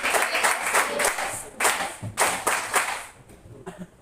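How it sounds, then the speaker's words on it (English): A classroom full of students bursts into applause for their classmates' presentations, the clapping coming in waves with several loud surges before fading out. "let's give them a best clap"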